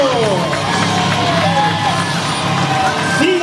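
Large crowd at a monster truck show in Parral, Chihuahua cheering and whooping loudly, with shouts and a steady roar of voices filling the space throughout.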